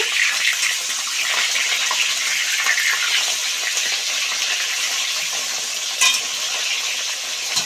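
A Katla fish head fries in hot oil, giving a steady, loud, continuous sizzle with a brief clatter near the end as it is turned.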